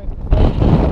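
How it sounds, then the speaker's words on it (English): Brief gusts of wind on a beach at Ravenscar buffet the microphone, a loud low rumble that swells suddenly after a quieter start. "It's a bit windy."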